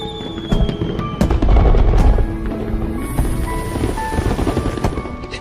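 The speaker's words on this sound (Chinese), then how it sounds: "居然还有烟花。" Fireworks go off in a dense run of crackling, popping bursts that keep going for several seconds, with music playing underneath and no voices.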